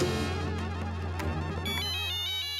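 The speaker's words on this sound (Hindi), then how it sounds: "अय्यर का फोन है।" A phone ringing in a tense Indian sitcom scene, a loud, continuous electronic ringtone with layered tones and a melody shifting partway through, with no voices over it.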